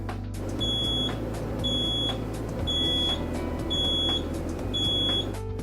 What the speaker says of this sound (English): One activates a low audible beep when you begin to run low on water.